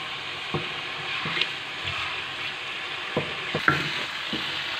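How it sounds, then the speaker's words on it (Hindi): Chicken fries in oil for a white karahi, giving a steady broad sizzle with several soft scrapes and knocks of stirring scattered through it, close by with no voices. "दोस्तों इसको अच्छी तरह आपने फ्राई कर लेना है"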